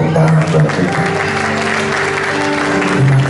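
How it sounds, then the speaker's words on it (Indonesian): Congregation applauding during an Indonesian church service, a loud, steady burst of clapping from many hands with some voices mixed in. "Sekali lagi mari kita berikan tepuk tangan buat kita."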